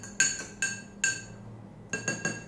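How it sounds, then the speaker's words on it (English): Sharp clinks of a spoon striking the side of a glass as a fizzy drink mixture of sugar, lemon juice and water is stirred, three taps, a short pause, then three more, close up and ringing. "Let's mix it once again and give it a stir."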